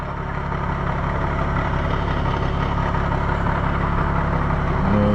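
Steady, loud idle of a BMW car engine heard close up, an even low rumble that holds throughout and rises slightly at the very end, with no voices.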